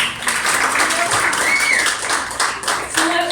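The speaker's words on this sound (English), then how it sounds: "Applause for Emily" A short, crisp burst of audience clapping for a volunteer during a talk on mountain gorillas and tourism, bright and close, with a brief tonal sound rising over the claps midway.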